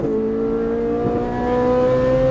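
A Ferrari 458 Italia engine on track holds a loud, close, steady tonal whine, with a quick dip and pitch jump around an upshift before climbing again.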